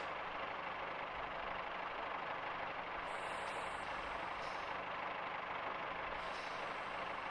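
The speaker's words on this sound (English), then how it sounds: "So let's go ahead and hit the brakes so we don't run into it." A train brakes in a train simulator game, a steady loud rumbling roar with hissing air-brake releases recurring several times over it, no voices.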